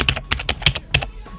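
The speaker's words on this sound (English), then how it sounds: "we have keyboard typing." Rapid keyboard typing sound effect, a cluster of crisp key clicks in an irregular rhythm, close and clear with no other sounds.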